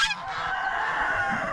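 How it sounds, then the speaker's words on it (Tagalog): A crowd of farm ducks, kept among many animals around a rural hut in the morning, quacks and honks in a dense, continuous chorus that stays loud and close throughout. "Pati yung mga mga pato natin."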